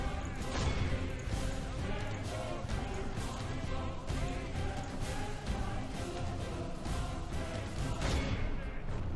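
Artillery pounds through a Medieval II Total War battle: dense, continuous rumbling volleys and crashing impacts with no let-up.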